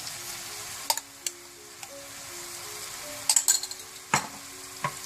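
Chicken handi masala with tomato paste and ground almonds frying in a pot, giving a steady close sizzle broken by sharp spoon clinks and stirring scrapes.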